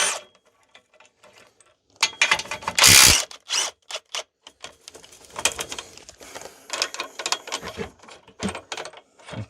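Ratchet with a long socket loosening an upright bolt on a Mini Cooper S convertible, giving rapid close clicking bursts separated by short pauses and metallic handling noises.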